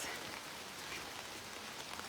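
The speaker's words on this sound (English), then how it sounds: "the rain is coming down" Steady rain pours down outdoors as a dense, even hiss of drops on surfaces, constant and fairly loud with no voices over it.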